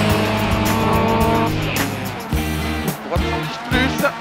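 Peugeot 206 rally car in a regional rally stage sliding hard, a loud close engine revving with gear changes and short bursts of tire squeal as it slides.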